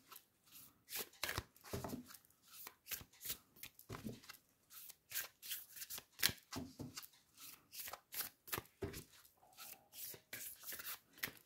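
A deck of Moonology oracle cards is shuffled by hand in quick repeated riffles and slaps, a crisp, close, soft flutter that comes in uneven bursts with no talking.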